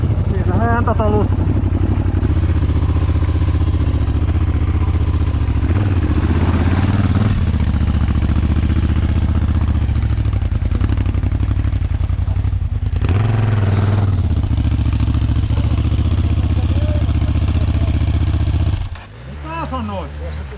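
An enduro motorcycle engine runs close by at a steady, loud idle-to-mid rev for most of the clip, with a couple of brief rises in revs and speech-like sounds mixed in near the end.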